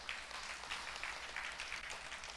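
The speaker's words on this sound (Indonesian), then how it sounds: "Tepuk tangan bagi dia." A church congregation at a Sunday worship service claps together in a soft, continuous patter that sounds distant and even throughout.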